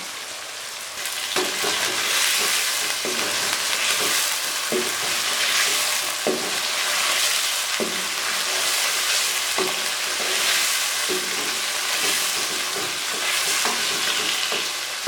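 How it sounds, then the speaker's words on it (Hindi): Continuous loud sizzling of chicken and fried onions in a frying pan, with periodic clacks and scrapes of a utensil stirring the food throughout. "प्याज हमारा फ्राई हो गया है। अब हम इसमें चिकन डाल देते हैं।"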